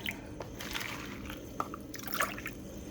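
Water poured from a measuring cup into plastic meal prep containers, a soft close trickle with brief drips and splashes at a few moments, no talking.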